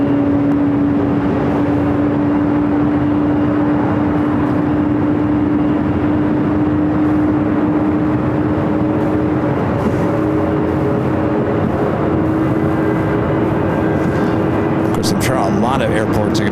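Jet airplanes at LAX airport produce a loud, steady engine roar with a sustained whine, near and constant throughout with no pauses.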